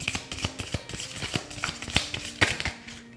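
Playing cards are shuffled in quick riffling bursts, crisp papery flutters repeating several times at close range with no talking.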